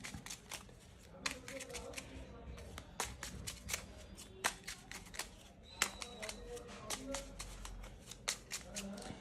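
Tarot cards being shuffled by hand: rapid riffling and slapping card sounds in repeated close bursts, with someone speaking softly between them.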